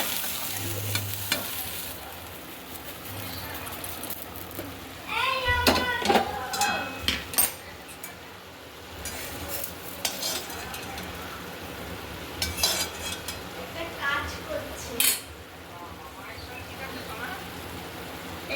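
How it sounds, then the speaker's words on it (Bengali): Fried soybean chunks are stirred into a spice mixture in an iron wok, sizzling steadily with scraping spoon strokes and occasional clinks, while a voice talks over parts of it. "এবার সয়াবিনটিকে মশলার সাথে ভালো করে কষিয়ে নেব"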